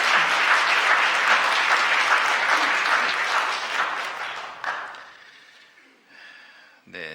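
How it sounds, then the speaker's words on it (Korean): A church congregation gives welcoming applause during a Sunday worship service at Kyungdong Church, steady loud clapping that tapers off, then a voice speaks briefly near the end. "여러분들 환영의 박수 부탁드리겠습니다"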